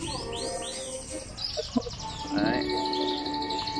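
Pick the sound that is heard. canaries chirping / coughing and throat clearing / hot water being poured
canaries chirping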